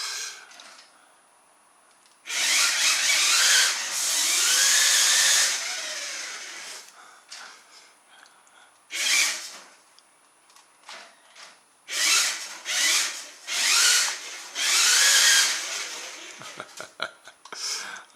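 A cheap RC car, scaled up with a large gear wheel or pulley, spins its wheels in several loud whirring bursts of varying length separated by quiet gaps, with someone speaking between them.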